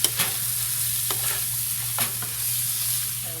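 Snake beans and chicken stirred in a hot frying pan: a constant close sizzle broken by a few sharp scraping strokes of the utensil, with no talking.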